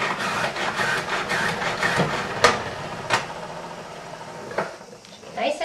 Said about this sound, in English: And then we put it in the salad spinner.